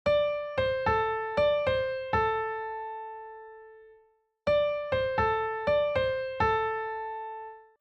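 A short piano lick played twice with a pause between, its notes falling into a bouncy long-short swung rhythm and ringing out at the end.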